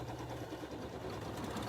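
A BERNINA 770QE embroidery machine stitches a steady, rapid mechanical whir, quiet and close, with no talk over it.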